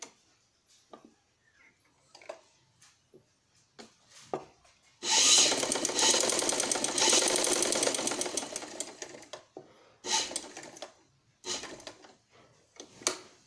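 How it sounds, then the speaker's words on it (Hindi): A sewing machine stitches along the edge of a trouser piece, running in one steady, loud mechanical whir for several seconds, framed by quieter handling clicks and rustles before and after. "अब हम इसके किनारे किनारे पे यहाँ पे सिलाई लगा देंगे।"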